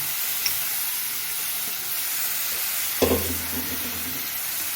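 Boiled vegetables dropped into roasted masala in a pan, a steady broad sizzle and hiss that swells briefly with a soft thud as they land, close and continuous.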